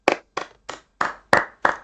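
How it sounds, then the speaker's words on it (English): Six sharp hand claps in an uneven rhythm, close and fairly loud, with no talking underneath. "let's clap for her"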